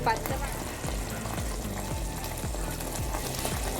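A steady sizzle of masala frying in oil for a Katla fish curry, with rhythmic scraping strokes of a spoon stirring the pan about every half second.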